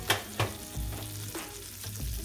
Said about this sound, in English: I'm just going to go ahead and add in a couple of tablespoons of butter.